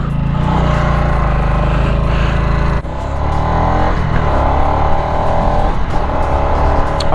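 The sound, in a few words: Harley-Davidson Nightster motorcycle being ridden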